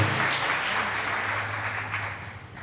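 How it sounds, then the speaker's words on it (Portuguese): A church congregation applauds after a Gospel reading, a dense continuous wash of clapping held at even volume throughout, with a low tonal hum running underneath and no speech over it. "Aplauda a palavra de Deus"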